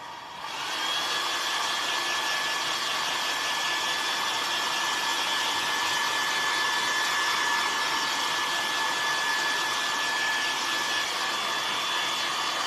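A hair dryer blows hot air over paint brushed onto barn wood for a chippy farmhouse pumpkin, a steady loud whoosh with a faint high whine that runs unbroken from start to finish.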